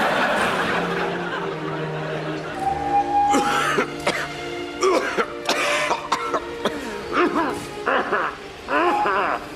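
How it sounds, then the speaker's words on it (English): Several hoarse coughs and throat clearings in bursts, close by, with a few short vocal sounds between them. "If only I could shake this blasted cough."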